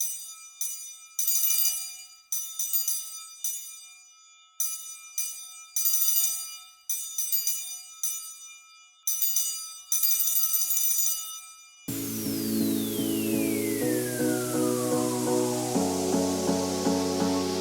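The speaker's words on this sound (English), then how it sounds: "The correct answer is B, the triangle." Bright, ringing metallic strikes of a triangle, struck in a quick repeated pattern with short pauses, each tone shimmering and decaying, followed by a different sustained tone.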